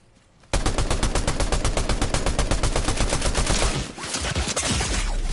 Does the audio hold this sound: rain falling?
no